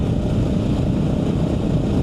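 A 1988 Yamaha Ténéré motorcycle engine idles close by, a steady low rumbling drone with an even throb that holds level throughout, no voices over it.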